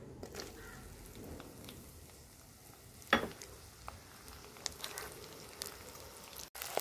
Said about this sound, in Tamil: அதில் வெங்காயத்தை போடுறேன்.